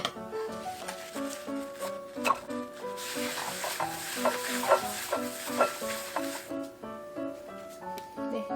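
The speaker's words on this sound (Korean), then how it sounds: "자, 여기다가 계란 후라이 할게요." An egg fries in a pan with a steady close sizzle and scattered clinks and scrapes, while background music plays throughout.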